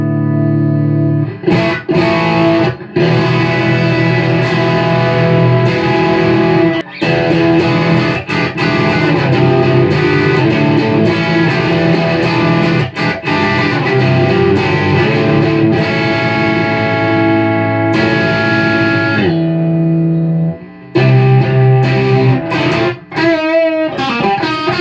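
Electric guitar through a tube amp boosted by an Ibanez TS-9/TS-808 overdrive set to full level, tone at noon and drive at zero, playing loud sustained chords and riffs with brief pauses, alone without talk.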